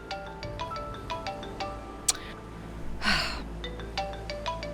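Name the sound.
phone ringtone, incoming call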